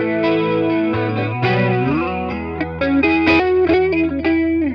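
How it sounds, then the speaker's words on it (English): Slow, shallow chorus from an analog multi-effects unit shimmers over sustained electric guitar chords, giving a gentle wavering doubled tone with no voices. "if I want to do the slow short chorus for reference again"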